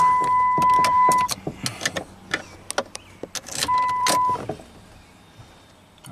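A Ram truck with a no-crank fault after a starter replacement: the key turns and the fuel pump primes with a short motor whir, among sharp clicks and jangles and two steady dashboard chime tones, all close by with no talking.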